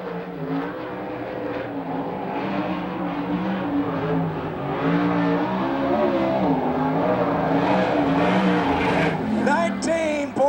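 A 360 sprint car laps a race track at the USAC National/CRA sprint car meet, its engine snarling loud and near with wavering revs that rise and fall through the corners, a few sharper bursts near the end.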